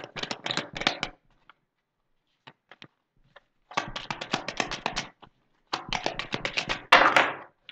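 Playing cards are shuffled in several bursts of rapid riffling flutter, close and crisp, separated by quiet gaps with a few isolated taps and card flips.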